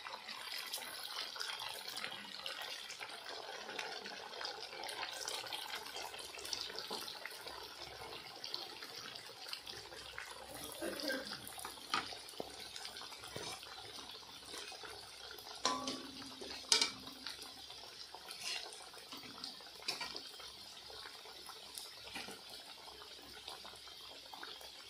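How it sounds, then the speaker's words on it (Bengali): Jalebi sweets made from flattened rice, flour and milk powder frying in hot oil, a faint, continuous bubbling sizzle with irregular small pops and crackles throughout, close by and without speech. "এইভাবে আমি সব জিলাপি মিষ্টিগুলো ভেজে নেব"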